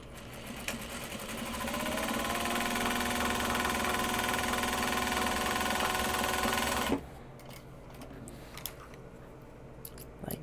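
A sewing machine runs steadily for about seven seconds, stitching two corners of fabric all the way down with a loud, even, whirring buzz, then stops abruptly, leaving faint handling clicks behind.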